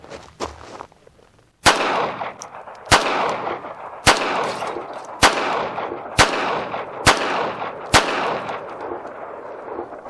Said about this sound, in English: what I'm going to do now is I'm going to fire one-handed, see if I have any malfunctions with this.